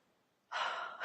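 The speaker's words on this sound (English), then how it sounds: "Let's take a deep breath." A single deep inhalation, close and fairly loud, follows a short stretch of near silence and fills about half a second before easing off.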